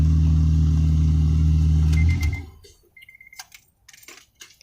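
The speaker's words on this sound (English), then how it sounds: "It will beep at you to remind you that you left your keys in the ignition" A loud low car engine rumble cuts off after two seconds, then short high electronic beeps of the key-in-ignition reminder sound in quiet surroundings with faint clicks.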